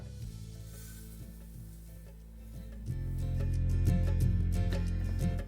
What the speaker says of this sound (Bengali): আর প্যানটা একটু গরম হয়ে গেলে আমি এখানে দিয়ে দেবো তিলটা।